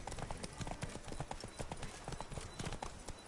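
Roach, a horse in The Witcher 3, gallops in a quick, steady clip-clop of hooves that runs unbroken throughout, close and busy, no voices.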